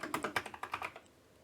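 Quick keystrokes tap out a word on a computer keyboard, about a dozen light, close clicks in an uneven burst that stops abruptly into quiet.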